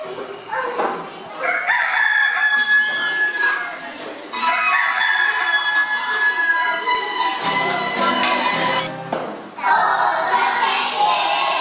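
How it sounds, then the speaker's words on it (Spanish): A rooster crows loudly and repeatedly up close, with clucking hens and other farmyard sounds around it. "Al poco rato llegó el gallo armando escándalo."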